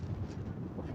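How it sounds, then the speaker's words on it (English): Steady wind buffeting the microphone outdoors by railroad siding in Kansas, a loud continuous low rumble with no pauses. "Excuse the wind. It's been windy the last 3 or 4 days now."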